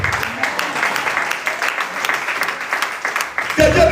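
A church congregation bursts into applause and acclamation, sustained crowd clapping mixed with cheering voices that stays loud throughout, with a louder swell near the end.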